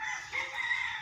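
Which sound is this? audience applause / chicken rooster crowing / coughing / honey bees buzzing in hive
chicken rooster crowing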